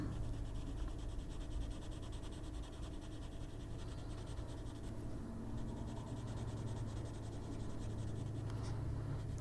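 Colored pencil strokes on a mandala coloring page, a steady close scratchy rubbing that continues throughout with short pauses, no talking.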